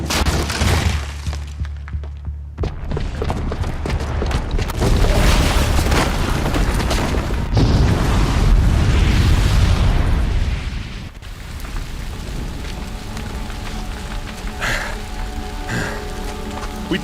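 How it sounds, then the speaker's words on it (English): A bomb booby trap explodes in Horizon Zero Dawn, a heavy booming blast with crumbling debris and a long rumbling, rain-like rush of falling rubble that settles into a quieter ambient wash. "the booby trap on the bomb downstairs is gonna get set off"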